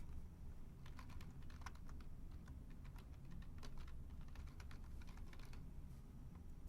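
Steady clicking of a computer keyboard as contact names are typed into a residential security web portal, with quick, irregular keystrokes close by and no voices.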